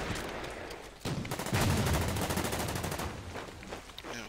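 A tank attack in the WW2 strategy game Order of Battle produces a burst of rapid machine-gun fire and explosive rumble, dense and loud for a few seconds before tapering into scattered shots.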